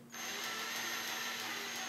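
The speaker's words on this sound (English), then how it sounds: "So let's hook it up to a drill." A power drill whines steadily at close range, starting abruptly and holding a constant high pitch throughout, spinning a bent, wobbling, off-center tool tip.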